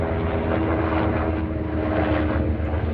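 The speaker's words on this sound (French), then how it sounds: "Les hélicoptères sont toujours là," A low, steady droning rumble of military helicopters flying overhead fills the air, continuous and fairly loud, with no voices.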